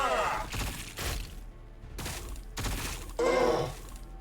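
Gunfire in the Warhammer 40,000: Battlesector strategy game, several heavy bursts of shots and impacts in quick succession, loud and close, with a battle din between them.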